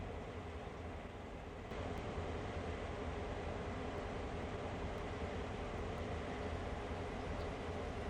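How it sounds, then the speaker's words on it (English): A passing train in Train Sim World 4 on the Horseshoe Curve route, heard as a steady, loud broadband rumble of rolling rail cars that thickens after the first seconds and holds continuous, with faint periodic clicks above it and no talking. "There's another train coming."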